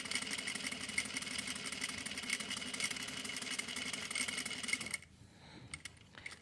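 A sewing machine stitches parallel practice lines in a steady, fast mechanical whirr with rapid needle ticking, close and continuous, then it stops near the end, leaving quieter room sound.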